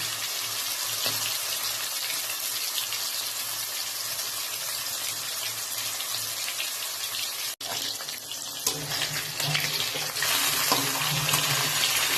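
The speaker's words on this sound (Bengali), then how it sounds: "তেলটা গরম হয়ে গেছে, এবার এক এক করে মাছগুলোকে ভেজে নেব" Pieces of rohu fish fry in hot oil with a continuous loud crackling sizzle that intensifies later on. A single sharp click interrupts it partway through.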